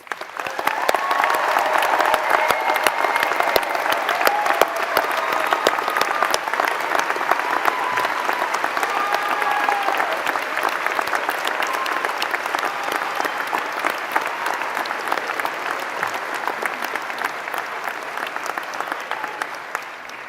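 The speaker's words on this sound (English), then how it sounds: "please join me in giving them a heartfelt round of applause" Sustained audience applause fills a graduation ceremony hall, a dense, steady wash of many hands clapping at even loudness throughout, with no speech over it.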